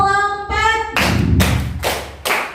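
Students clapping in rhythm on a count in a classroom: a voice calls out before a run of loud, roughly evenly spaced group claps with thuds, three or four bursts close together.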